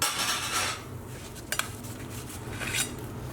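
Metal skewers of grilled Lebanese lamb shish kebab clink and scrape as the meat is pulled off with flatbread, producing a few close, light clatters over a soft steady background.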